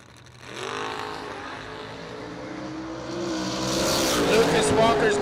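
A Mustang race car roars past at a drag racing event, its engine building from a steady drone to a louder, rising howl as it nears, with an announcer talking over it.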